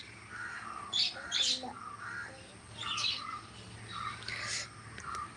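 Harsh parrot squawks ring out in several bursts, moderately near, with softer chirps between them over a steady low background hum.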